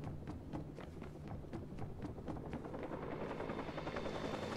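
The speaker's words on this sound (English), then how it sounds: "We got the helicopter." A helicopter in the video game Watch Dogs 2 gives a quick, even thumping of rotor blades over a steady engine whine that continues throughout, alone and moderately quiet.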